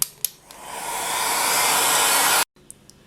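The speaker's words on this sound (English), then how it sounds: "grab your heat gun or hairdryer again and just give it a dry again" A hair dryer drying polymer clay blows in a steady, loud whoosh for about two seconds, then cuts off abruptly, leaving a few soft knocks.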